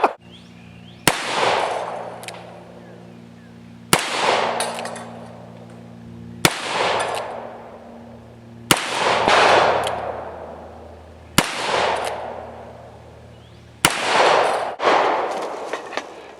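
A Colt Official Police revolver in .38 Special fires six loud, sharp shots outdoors, spaced roughly two and a half seconds apart, each followed by a ringing decay.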